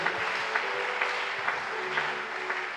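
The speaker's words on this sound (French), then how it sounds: "Acclamez pour la gloire du Seigneur." A church congregation claps steadily in sustained applause, with a faint rhythmic beat underneath, continuous and fairly loud throughout.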